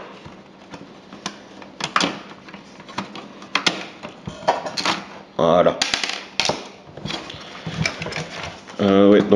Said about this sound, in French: donc là je retire les vis qui sont grises